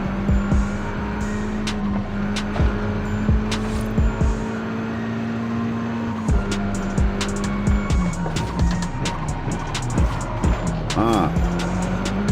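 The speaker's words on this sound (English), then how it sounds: "nice drift" Car drifting in Forza Horizon 5, engine droning steadily under repeated clicks and thumps, with a short squeal of tires late on and some talk mixed in.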